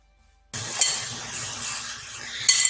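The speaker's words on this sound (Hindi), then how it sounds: "अच्छा, कॉर्नफ्लोर हमने इतना डालना है कि तमाम विंग्स अच्छी तरीके से कोट हो जाएं।" Raw chicken wings tossed with cornflour in a bowl, with soft scraping and stirring and a couple of sharp clinks against the bowl, fairly close.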